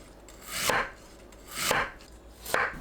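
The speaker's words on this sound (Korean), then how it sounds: "연근을 얇게 썰어주세요." Three slow, evenly spaced knife cuts thinly slicing lotus root, each a sharp crunch ending with a thud on a cutting board.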